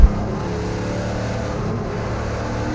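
Race cars at Mid Ohio during Gridlife GLTC racing roar steadily through a corner, a loud continuous engine drone after a brief knock at the start, with no voices.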